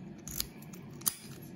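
A large Ace padlock, key-retaining, works its mechanism in two crisp metallic clicks close by, the first around the middle and a sharper one near the end, over a low steady room hum.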